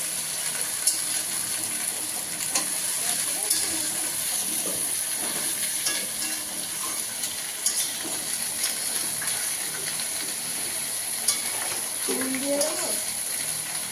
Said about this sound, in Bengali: মা আস্তে আস্তে নাড়ছে আলু ফুলকপিটা।